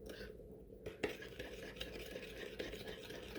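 A spoon stirs pad Thai sauce of ketchup and sugar in a bowl, with soft, close scraping and a few light clinks against the side.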